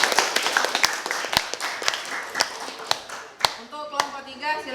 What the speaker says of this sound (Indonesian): Berarti kita beri aplaus dulu untuk mereka